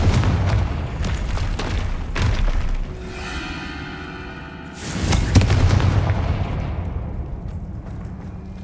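Confringo fire spells burst repeatedly in the video game Hogwarts Legacy, heavy booming blasts with crackling debris, a ringing magical shimmer between them, then another loud explosion that rumbles away.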